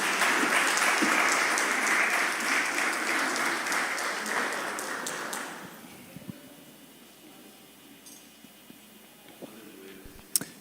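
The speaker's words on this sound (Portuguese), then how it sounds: "aplauda ao Senhor." A church congregation claps loudly during a Sunday morning service, dense steady applause that fades out after about five seconds, leaving a quiet room with a few scattered knocks and rustles.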